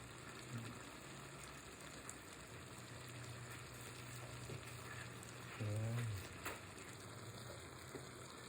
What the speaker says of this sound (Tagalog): na ngayon, kumukulo na siya